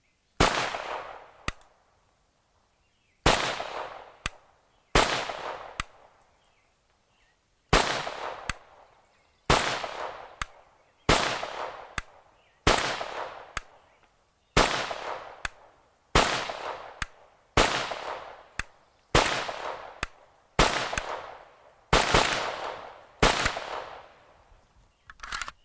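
A Pioneer Arms PPS43C rifle fires around twenty sharp, loud single shots at a steady pace, each crack followed by a short decaying echo, with quiet gaps between and no talking.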